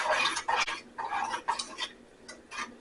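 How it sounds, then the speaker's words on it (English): A chocolate cake mixture stirred in a pot, the spoon scraping and clinking against the sides in several quick bursts with brief pauses between, close and moderately loud, with no talking. "We're going to stir this up"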